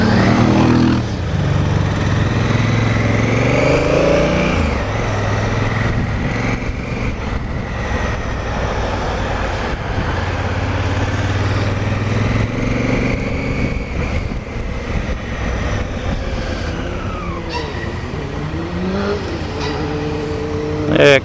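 Honda CRF1000L Africa Twin motorcycle engine running and revving, a loud continuous drone that rises and falls in pitch throughout and is heard up close.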